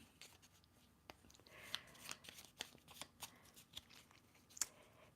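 Tarot cards being shuffled by hand, a run of soft crisp riffles and taps, quiet and close with no talking.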